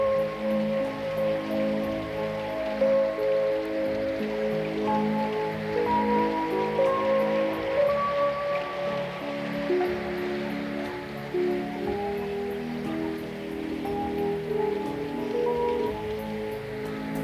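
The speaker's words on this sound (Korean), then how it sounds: "예로부터 관서팔경에 속하는 아름다운 독림폭포." The ten-metre Dongnim waterfall in North Korea's Pyongan region pours in a steady, dense rush of falling water that holds an even loudness throughout, with no voices over it.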